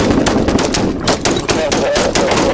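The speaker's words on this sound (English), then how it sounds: "Additional shots fired." Police gunshots in a shootout with a man armed with an AR rifle: loud, rapid, closely spaced shots fired in quick succession for the whole clip.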